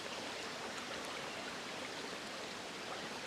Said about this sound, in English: Getting down to the creek here